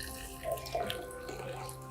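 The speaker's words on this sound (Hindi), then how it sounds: "पानी में जीरे में पानी डाल दिया।" Water runs steadily onto cumin seeds, a soft, even pouring wash at low level with no speech.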